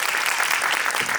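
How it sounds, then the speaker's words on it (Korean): Audience applause at a film screening: a dense, steady burst of clapping that fills the short moment, loud and close. "여러분 박수 한 번 더 부탁드리겠습니다."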